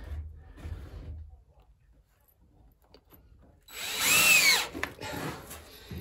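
A power drill bores holes in a narrowboat roof, bursting in loud and close for about a second and a half after quiet, low voices, then tailing off into softer rattling.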